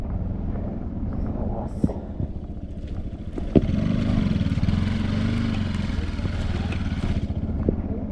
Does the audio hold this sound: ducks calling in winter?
no